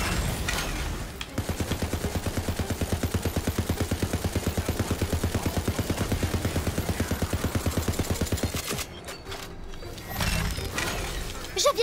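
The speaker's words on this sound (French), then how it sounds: "Tire en rafale!" Burst gunfire in the video game Tiny Tina's Wonderlands: a long run of rapid, evenly spaced shots lasting about seven seconds, followed by a short gap and then other game sounds.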